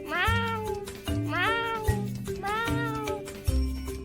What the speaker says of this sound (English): It is a sound coming from a cat.